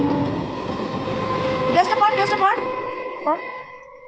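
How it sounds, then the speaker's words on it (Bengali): A passing train gives a steady rumble with a few rhythmic rail clacks in the middle, heard at moderate distance while people talk indoors throughout. "সাড়ে চারটে ট্রেন যাচ্ছে"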